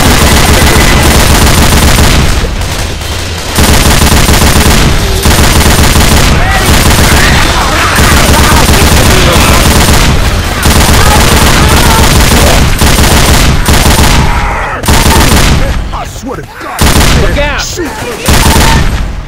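A big gun in a chaotic video game fires heavy, sustained bursts, loud and dense, with brief gaps near the end. Voices speak faintly under the barrage.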